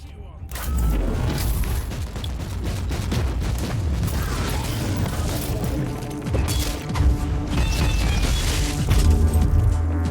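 Grenade blast in Warhammer 40,000: Inquisitor - Martyr, a loud continuous barrage of booms, crashes and debris-like rumble filling the scene, with a voice briefly heard amid the chaos.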